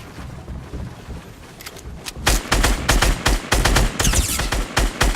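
Rapid bursts of gunfire from the video game Fortnite, starting sparse then turning into loud, dense volleys of repeated shots close by, with no talking.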